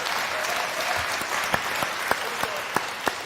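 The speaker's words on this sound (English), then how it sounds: "let's give Mike a round of applause" Audience applause for a speaker at a live event held in a jail, steady clapping from a crowd throughout with a few sharper individual claps standing out near the end.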